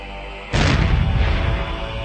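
A large charge of black powder detonates in one sudden, loud boom, followed by a long rumbling roll of debris and echo that slowly fades, with no voices present.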